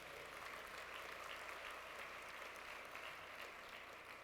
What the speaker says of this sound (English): Give her a round of applause for poetry,